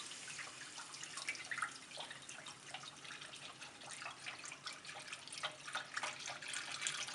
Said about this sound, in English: I'm going to add my broth and scrape up the edges and the little bits into the broth.